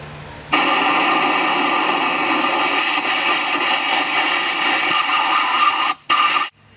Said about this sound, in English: We're going to blast it with air.